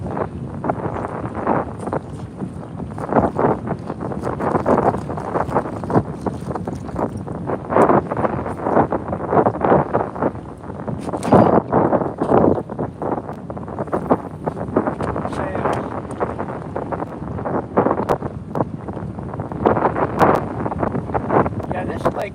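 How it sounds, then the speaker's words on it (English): A 15 to 20 knot breeze buffets the microphone on a lake during a fishing outing, loud gusty rumbles rising and falling throughout, with people talking intermittently underneath. "I don't mind the breeze. It's 15, 20 knots."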